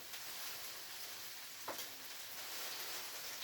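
Boiling water poured into a lightly greased frying pan gives a steady, faint hiss and sizzle throughout, with one brief sharper crackle near the middle and no talking.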